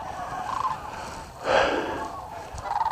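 Cranes calling over a noisy outdoor background, with a louder trumpeting call in the middle and a few fainter calls around it.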